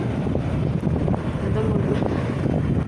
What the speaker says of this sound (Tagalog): Napakalakas nga ng hangin dyan guys.